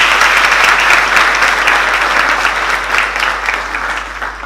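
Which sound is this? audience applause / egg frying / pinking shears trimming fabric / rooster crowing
audience applause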